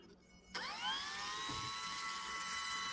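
A Draco RC model airplane's electric motor suddenly whines up to a steady, fairly loud high-pitched drone, rising in pitch as it gathers speed and holding on without a break.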